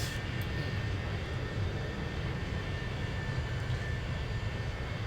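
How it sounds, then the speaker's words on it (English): Boeing 737 jet engines in X-Plane 11, heard from a wing-side position: a steady, continuous low roar with a faint high whine, unchanging and alone throughout. "you can hear the engines"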